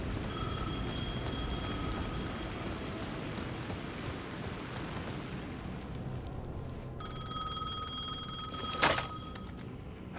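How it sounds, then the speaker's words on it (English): A telephone rings in Alan Wake 2, a thin repeating bell tone over steady rain-like hiss, cutting out briefly and then returning, followed by a sharp click near the end. "The phone was ringing again."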